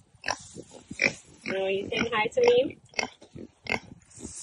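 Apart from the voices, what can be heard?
Kunekune grazing pigs from New Zealand grunting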